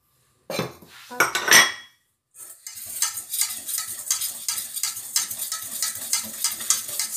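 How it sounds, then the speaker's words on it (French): A bowl of almond powder, icing sugar and flour is mixed for a chocolate recipe. A few clinks and scrapes come first, then a steady, rhythmic stirring close by with no voices. "nous allons mélanger poudre d'amande, sucre glace et farine"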